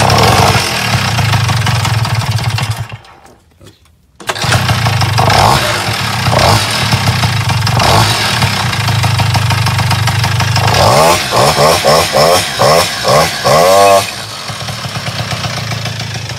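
A Tomos moped engine fitted with a Technicas exhaust runs loudly up close, buzzing steadily, cutting out briefly, then revving in several sharp rising bursts before settling back to a rough idle.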